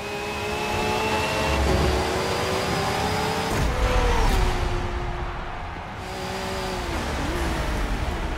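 Racing car engines from the video game Forza Motorsport 7 whine and rev loudly and steadily, with shifting pitch as the cars accelerate and pass amid a dense, continuous roar.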